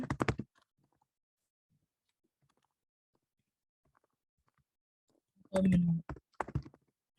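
A quick burst of keystrokes on a computer keyboard as a quiz title is typed, followed by a long quiet pause and then a second brisk cluster of clicks; nearby and fairly crisp.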